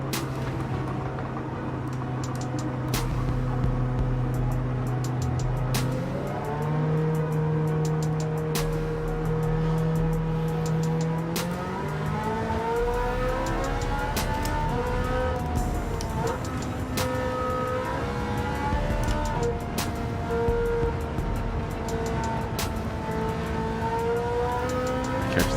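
Pagani Zonda race car engine in Gran Turismo 7, racing at Laguna Seca: a loud, continuous engine drone that climbs and shifts in pitch through gear changes, with other cars' engines mixed in.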